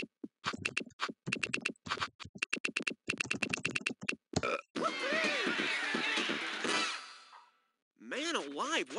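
Rapid bursts of computer keyboard typing in quick irregular clusters, followed by a stretch of noisy game sound effects and a warbling tone.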